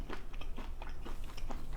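Crunchy fried food such as onion rings and chili cheese fries being bitten and chewed up close, a steady run of sharp, loud crunches in quick succession with no talking.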